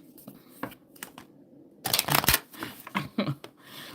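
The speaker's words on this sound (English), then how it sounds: "my shuffling is getting old" A deck of tarot cards is shuffled by hand up close, giving soft, quiet bursts of riffling and flicking that grow into a denser flurry partway through.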